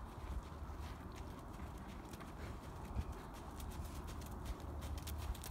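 A former show horse's hooves clip-clop during a flat ride, a quiet, irregular stream of soft thuds under a faint background hum, with no talking.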